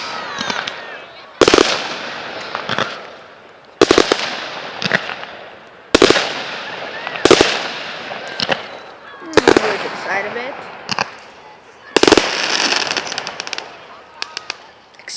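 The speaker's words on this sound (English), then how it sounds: "there are a bunch of fireworks" Fireworks bursting at an evening outdoor display, a series of loud sharp booms and crackles roughly every couple of seconds with sizzling tails between them, while people talk nearby.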